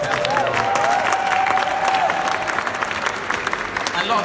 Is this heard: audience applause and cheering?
yes